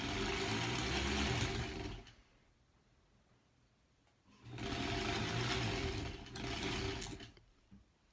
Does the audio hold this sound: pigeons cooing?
no